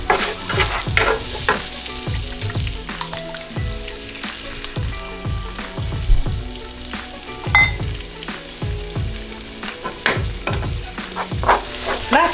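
Eggs frying in a pan for a quick nasi goreng, turning brown at the edges: a loud, steady sizzle with repeated scraping strokes of a spatula against the pan, close and without talk.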